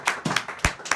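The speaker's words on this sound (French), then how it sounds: "Est-ce qu'on peut applaudir le Seigneur?" A church congregation clapping in a quick, uneven rhythm, about six close hand claps within one second.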